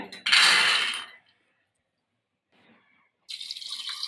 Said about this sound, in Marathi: आपण दीड वाटी पाणी घालणार आहोत